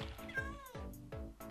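A cat in the video game Minecraft meows in a few clear, close cries, one after another, with short gaps between them.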